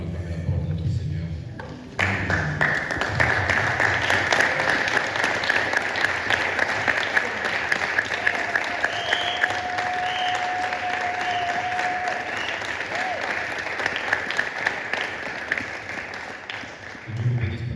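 A church congregation at a Sunday worship service applauds together, sustained and fairly loud clapping after an opening moment of speech, with a rising sung or held tone woven through the middle and voices underneath.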